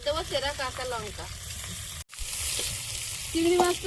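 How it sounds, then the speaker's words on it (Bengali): Split green chillies and chopped onion crackle and hiss steadily in hot oil. A voice talks over the frying at first, and a clean break in the middle is followed by a brighter sizzle. "আর দেবো চেরা কাঁচা লঙ্কা।"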